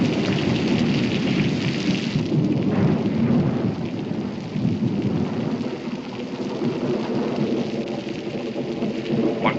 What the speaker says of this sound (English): Major Howerton doesn't want to get caught when this storm lets loose.